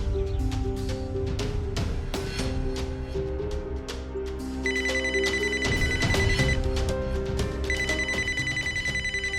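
A telephone bell rings repeatedly indoors in a home, steady periodic rings over a quiet background with no talking.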